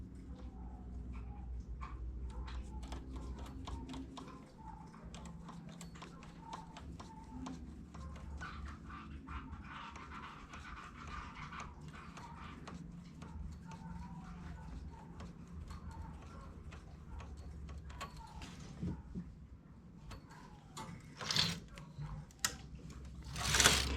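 A domestic knitting machine carriage runs back and forth across the needle bed, giving a quiet stream of rapid mechanical clicks and clacks with a low hum, rising to a few sharper knocks near the end.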